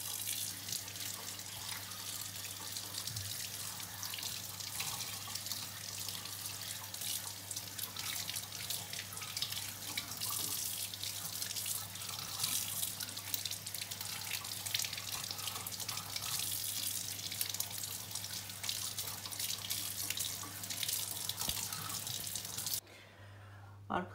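Tap water runs steadily into a sink as coffee grinder parts are rinsed, a continuous close hiss with faint splashes that stops abruptly near the end.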